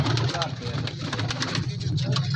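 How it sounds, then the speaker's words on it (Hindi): Pigeons cooing at a busy Lahore pigeon market, with low throaty coos repeating near the birds amid constant crowd chatter, background voices and faint passing traffic. "गोल्डन कबूतर है, लाल आँख में है"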